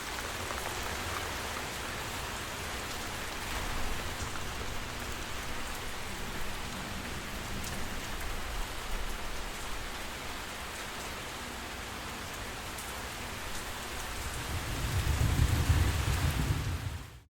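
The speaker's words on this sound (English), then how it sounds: "raining all day" Steady rain falls outdoors over a garden, a continuous even hiss of drops that holds for the whole stretch, with a deeper swell of rumbling noise near the end.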